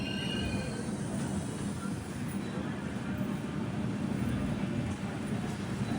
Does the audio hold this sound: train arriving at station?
yes